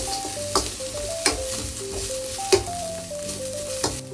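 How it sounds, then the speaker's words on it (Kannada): Chana dal fries on a low flame for lemon rice, a soft steady sizzle broken by periodic spoon scrapes and taps against the pan, close and without talk, with a faint tonal melody running underneath. "ಸೊ ಲೋ ಫ್ಲೇಮಲ್ಲಿ ಚೆನ್ನಾಗಿ ಫ್ರೈ ಮಾಡೋಣ."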